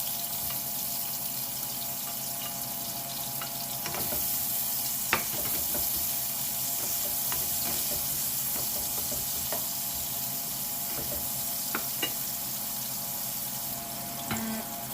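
Garlic and onion fry in a pan for a Filipino pork cassava dish, giving a constant hissing sizzle with occasional faint clicks and scrapes, heard alone.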